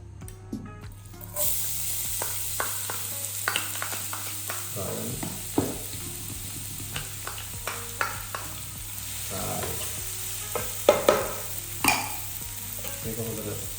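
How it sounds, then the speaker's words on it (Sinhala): Olive oil sizzles in a heated pan on a home stove, with a soft continuous fry punctuated by scattered crackles and pops that grow sharper toward the end. "අපි දැන් ඉස්සෙල්ලාම අපි රත්විච්ච pan එකට olive oil ටික දාගමු"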